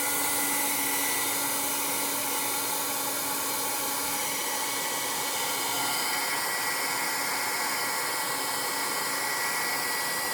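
A hair dryer blows steadily and loudly on a stamped paper craft project, a constant whooshing roar with no talk throughout.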